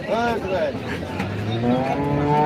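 A very large cow at a cattle market gives a loud, drawn-out moo close by, its call rising and wavering over market noise and someone talking.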